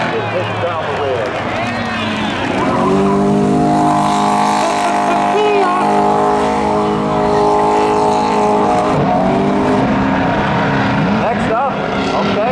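Race cars roar loudly at Seekonk Speedway spectator drags, engines revving and sweeping in pitch as they power through a corner, with an announcer talking over the noise.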